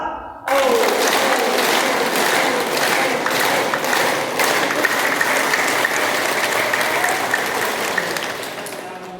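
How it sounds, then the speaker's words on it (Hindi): Students at a government girls' intermediate college clapping together during a chanting exercise, a loud, sustained burst of many hands with a rattling, rhythmic texture and some voices mixed in, continuing for several seconds. "मेरी ओम की गड़गड़ाहट बढ़ेगी, ताली की गड़गड़ाहट भी बढ़ेगी, लेकिन कंडीशन है सबकी ताली एक साथ करेगी"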